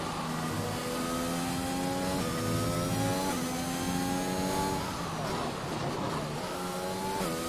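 A race car engine screams through a hot lap at Monza in a racing video game, loud and continuous, its pitch climbing through the gears with sharp drops at each upshift and a dip as it brakes for a corner.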